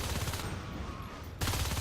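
Rapid gunfire rattles in a Natural Selection 2 competitive match, a dense, continuous burst that dips briefly and then resumes at full loudness.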